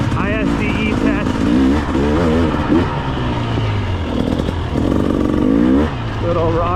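A 2024 GasGas enduro motorcycle ridden over rocky off-road terrain, its engine revving up and down in repeated rising and falling bursts, loud and close throughout.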